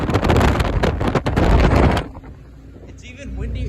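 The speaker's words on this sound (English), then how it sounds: "it's even windier on this side." Strong gusting wind buffets the microphone on the deck of a San Francisco Bay ferry, loud roaring bursts for two seconds, then dropping to a quieter rumble of engine and water with a voice speaking.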